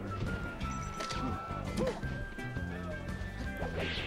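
Smash attacks land in a Super Smash Bros. Melee match between Marth and Falco at winners finals, sharp cracking hits repeating amid game effects and tones, with commentators talking over them.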